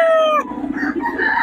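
An 11-month-old gamecock stag crows once nearby, a loud drawn-out call that breaks off abruptly, followed by softer clucking and rustling.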